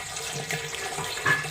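Water runs from a pipe into a container of olives being brined, a steady close gushing and splashing flow with a faint rising trickle toward the end.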